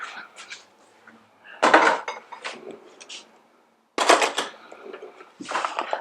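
Burrata salad is tossed with olive oil in a bowl: sharp clinks and scrapes of utensils against the dish come in two clustered bursts, separated by quieter gaps with softer wet movement.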